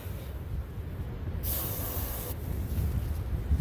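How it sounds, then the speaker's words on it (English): A spray can gives one sharp, loud hissing squirt lasting about a second, over a steady low background rumble from a car engine being cranked. "I'll do one more squirt."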